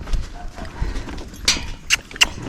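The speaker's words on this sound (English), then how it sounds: "it is a mule." A mule's hooves clop unevenly on the ground nearby, a few sharp knocks over a faint low background, with no talking.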